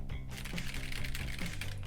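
Typing on a Keychron mechanical keyboard fitted with brown switches, a steady run of soft, closely spaced key clacks heard up close with no talking.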